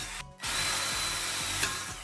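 A power drill whines steadily as it bores into the wall of a water bottle firepit, after a brief pause near the start, running close and loud with a faint clicking mechanism underneath.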